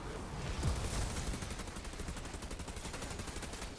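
Rapid automatic gunfire from the video game Outriders, a loud dense stream of shots repeating evenly throughout.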